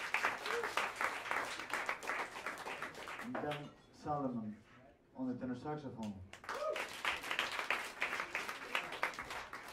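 Applause from a jazz club audience for the band, with the clapping fading as someone speaks briefly. The crowd then claps again in a loud, dense burst.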